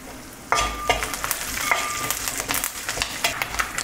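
Curry leaves sizzling in hot oil with coconut pieces in a pan while clam meat roast is cooked, a steady close frying hiss with sharp crackles and pops as the leaves hit, and stirring scrapes.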